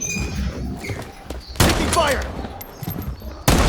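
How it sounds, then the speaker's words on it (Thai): Bursts of gunfire crack out in quick succession in the video game Blood Strike, one loud shot near the middle and another at the end, over a busy game background. "เหมือนจะมีเสียงปืนนะแถวนี้"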